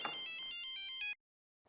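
Telephone ringing in an Indian sitcom home, a bright electronic ringtone with repeated chirping tones for about a second before cutting off to silence.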